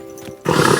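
A horse in Kingdom Come: Deliverance 2 lets out a sudden, loud neigh that bursts in after a brief quiet moment and carries on to the end.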